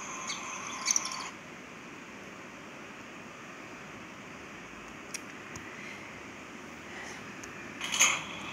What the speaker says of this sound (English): These birds usually fly away if I go to the window when they're on this line.